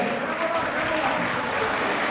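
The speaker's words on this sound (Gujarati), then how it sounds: "જોરદાર તાળી પૃથાબેન માટે" Steady applause from a gathered crowd at a Patel community group prize draw in Mehsana, a continuous even wash of clapping lasting a couple of seconds with no breaks.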